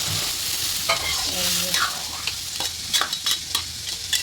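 Crab curry simmering in a pan as water is added, with a steady sizzling hiss, soft stirring scrapes and a few sharp utensil clicks near the end; no voices.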